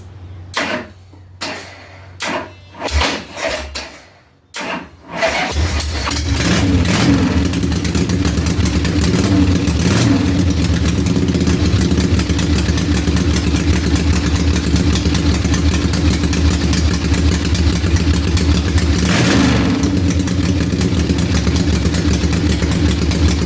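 A 1975 Harley Sportster motorcycle cranks several times in short bursts, then fires up and settles into a loud, steady, close idle with a brief blip later on.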